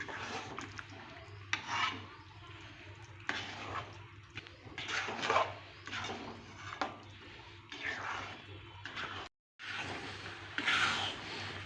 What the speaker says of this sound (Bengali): একটু ভালো করে নেড়ে চেড়ে মিশিয়ে নেব।